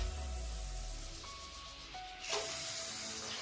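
Water poured onto sugar in a pan to make gulab jamun syrup: a steady close hiss with a sudden louder, brighter gush near the end, no one talking.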